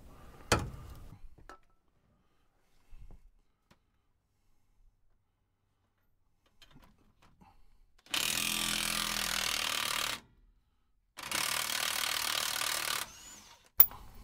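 On a lowered pickup truck, a power tool works at the leaf spring bolts in two loud whirring bursts of about two seconds each, separated by near silence, with a few faint knocks and a sharp click at the end.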